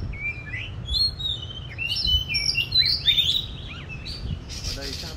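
A tame oriental magpie-robin with a large tail sings close by, a run of varied bright whistled phrases and chirps over low background rumble, ending with a short scratchy buzz.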